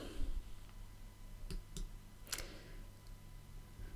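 Several quiet, sharp mouse clicks on a computer, scattered single ticks over a faint background hum, close and isolated with no talking.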